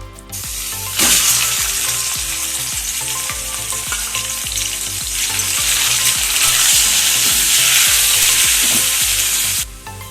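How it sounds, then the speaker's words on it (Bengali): Marinated food coated with onion paste, chili, cumin and coriander powder hits a hot wok and fries with a loud, steady sizzle that bursts in after a quiet start, softer clinks of stirring running underneath until it cuts off near the end. "তো এটা এখন কড়াইয়ের মধ্যে ঢেলে দেবো।"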